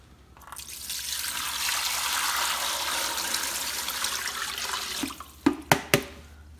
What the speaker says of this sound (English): We just get a jug of melting solution and pour it into the machine.